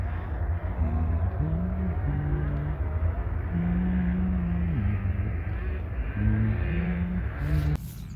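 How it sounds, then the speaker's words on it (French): Motocross motorcycles race on a distant track during a Sunday competition, their engines rising and falling in overlapping revving tones beneath a steady outdoor rumble. "c'est des motos, c'est des crosses à mon avis"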